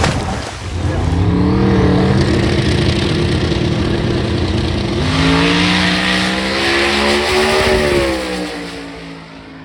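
A drag racing car making a run at Sick Week 2024, its engine roaring loud and close with rising revs through the gears across the full stretch.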